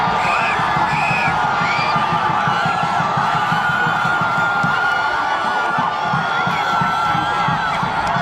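A Haitian crowd at an under-20 men's football qualifier cheers, whoops and shouts continuously, a loud dense roar with whistles and yells rising above it throughout.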